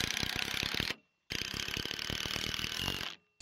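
A power drill drives 3-inch screws into playhouse roof trusses, two long close ratcheting bursts with a short pause between them and a brief restart at the end.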